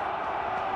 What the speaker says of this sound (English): crowd are screaming at their boys